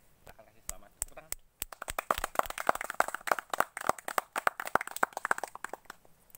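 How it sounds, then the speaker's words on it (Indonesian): A group claps hands outdoors at an Indonesian flag-raising ceremony for 17 August on a mountain summit. A few scattered claps build into quick, uneven group clapping that is fairly close and fades slightly toward the end. "Tepuk tangan."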